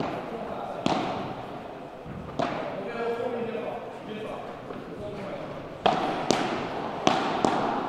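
A padel ball is struck during a rally at the French padel championships, with several sharp, hollow pops spaced through the exchange under a commentator's voice.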